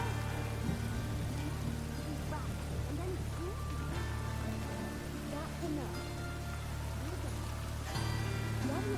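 Steady rain falls over a constant low hum in The Witcher 3: Wild Hunt, with scattered chirping and small tonal effects layered on top, continuous and even throughout.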